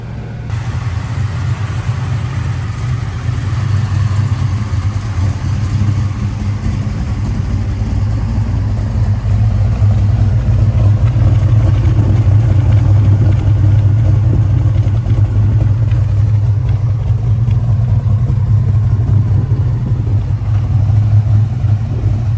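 A Chevelle muscle car with a new exhaust rumbles steadily and loudly throughout, a deep, throaty, low burbling exhaust note idling with slight swells.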